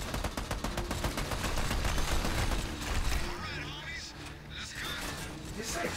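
Rapid automatic gunfire in the Army of Two video game, dense and loud at first, then thinning into scattered shots and mechanical clatter while a voice speaks underneath.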